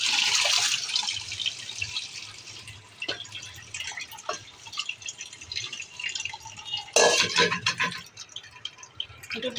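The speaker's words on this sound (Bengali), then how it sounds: "এখন আমি ছেঁকে নেব।" Boiled vermicelli being strained for semai pitha, water splashing and draining in uneven bursts with a stronger gush near the start and another surge toward the end, close by and with no talking.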